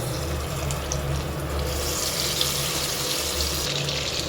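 Soybean chunks frying in hot oil give a steady, close, even sizzle that runs unbroken and alone, with no voices.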